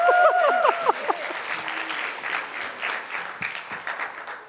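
An audience at a fireside chat conference gives a modest round of applause, a scattered patter of clapping after a few spoken words at the start, fairly light and uneven.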